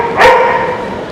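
A large dog outdoors in Taipei gives one short, loud bark that fades into a low hum.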